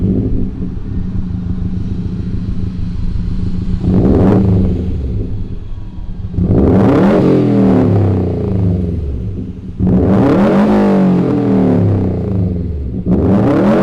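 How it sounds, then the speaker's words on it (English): A 2018 Subaru WRX STI flat-four engine with an AWE catback exhaust starts and settles into a deep burbling idle, with several loud throaty revs rising and falling, close to the microphone. "Let's go ahead and fire up this flat 4."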